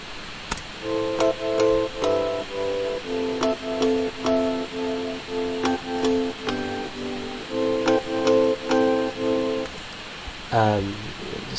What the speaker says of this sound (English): It's very summery when you have the marimba sound